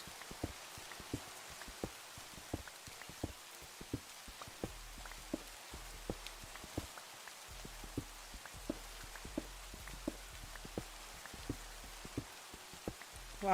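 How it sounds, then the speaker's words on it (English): Rain falls with a steady patter and scattered sharp drops, quiet and continuous, in a VTuber stream, with no voices over it. "Why are you raining so much?"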